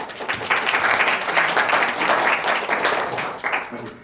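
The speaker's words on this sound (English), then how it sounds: "Round of applause for Michael." Audience applause at a corporate offsite session on a benefit-risk framework, dense steady clapping from a mid-sized room lasting about four seconds before fading, with some voices murmuring underneath.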